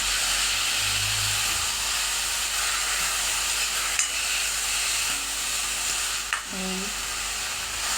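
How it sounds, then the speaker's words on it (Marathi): Grated beetroot frying in ghee in a pan gives a steady, close hissing sizzle throughout, with a couple of faint clicks and a short stir near the end. "तुपामध्ये परतवून घ्या"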